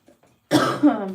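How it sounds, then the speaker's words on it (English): A single harsh cough from someone with a sore, irritated throat bursts out close by, preceded by a faint breathy intake, with no speech. "I will try not to cough too much"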